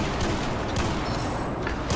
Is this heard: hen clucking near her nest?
no